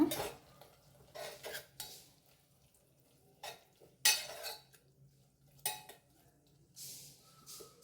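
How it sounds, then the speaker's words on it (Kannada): Spoon scraping and clinking in a pan while fenugreek leaf pulao is mixed, in several short irregular bursts with quiet gaps between them, close and moderately loud. "ಚೆನ್ನಾಗಿ ಮಿಕ್ಸ್ ಮಾಡೋಣ"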